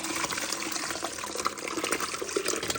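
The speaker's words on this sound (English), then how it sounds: "I just take it and pour it into the pitcher." Homemade Southern sweet tea poured into a pitcher, a steady, soft liquid gush and trickle running continuously for a few seconds, fairly quiet and alone.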